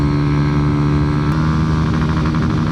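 A small motorcycle engine runs at high revs near its redline, a steady loud buzzing drone with strong harmonic whine that holds constant throughout, recorded up close with wind noise.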